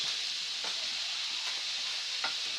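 Potatoes frying in a hot pan while being stirred, a dense, even sizzle with a few soft scrapes of a utensil spaced through it, no voices.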